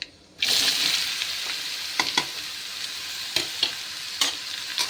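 Pumpkin pieces frying in a pan for a sweet-sour pumpkin dish with fenugreek, sizzling steadily and close, with a spoon scraping and stirring through it in several sharp knocks.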